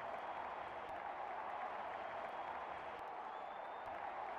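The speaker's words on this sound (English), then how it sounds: "Greeted with a loud cheer from the crowd." A large crowd in a Real Cricket 20 video game cheers and applauds in a steady, dense roar that holds at the same level throughout, with no break or single voice standing out.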